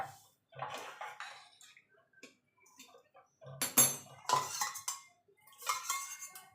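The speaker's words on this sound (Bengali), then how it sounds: "আর একটু আমি গরম জল দেবো।" Hot water is poured into a pot of tomato and red lentil dal, giving soft splashing and watery clinks in short bursts with quiet pauses between them, close and fairly faint.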